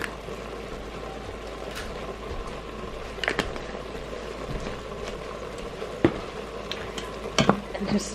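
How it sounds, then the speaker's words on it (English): A pan of enchilada chili with paprika and cumin sizzles steadily while a spoon stirs it, with a few sharp scraping clicks against the pan and a low bubbling underneath. "And just stir that in there and let that all cook a little bit."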